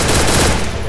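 Rapid gunfire from a shooting video game, a dense, continuous burst of loud shots filling the whole moment with no pauses.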